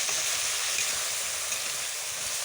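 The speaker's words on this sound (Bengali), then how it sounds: "ভালো করে একটু কষাতে হবে শশা আর আলুটা।" Cucumber and potato sautéing in a pan give a steady, close sizzle with dense crackling that holds evenly throughout, with no voices over it.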